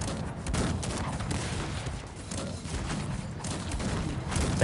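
Dense, continuous cannon fire from captured artillery shelling each other with shrapnel in the strategy game Cossacks 3, a steady barrage of overlapping booms and crackling bursts filling the whole stretch at moderate loudness.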